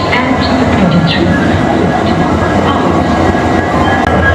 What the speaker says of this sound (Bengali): একদম রাইট টাইমে কিন্তু আমাদের ট্রেন ছেড়ে দিয়েছে হাওড়া স্টেশন নিউ কমপ্লেক্সের 15 নম্বর প্ল্যাটফর্ম থেকে